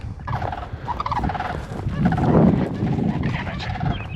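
A wild tom turkey gobbles in a spring swamp, the rattling calls coming in several bursts at moderate distance over faint outdoor background.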